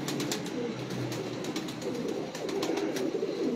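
Domestic pigeons coo in a loft among prized fancy breeds, the soft low rolling calls repeating steadily at close range over a constant background hum, with no talk.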